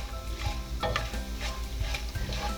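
Whole spices sizzling and frying in hot oil for a rice and potato pilaf, a steady close crackle with occasional stirring scrapes and a low hum underneath.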